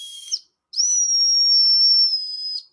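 A Dogecoin desk whistle blown twice, a brief high shrill toot then a long sustained piercing tone lasting nearly two seconds, loud and close.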